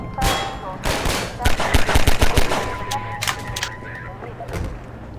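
Gunfire in the video game Half-Life 2, played in VR: rapid bursts of automatic shots crackling up front, then scattered single shots, while a voice talks over the action.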